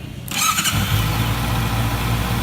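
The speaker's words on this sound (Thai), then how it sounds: "พอดับปุ๊บให้เรากดสตาร์ท โดยที่ไม่ต้องบิดคันเร่ง" A 2017 Honda CBR650F motorcycle engine cranks briefly without throttle and then catches, settling into a steady, close idle rumble.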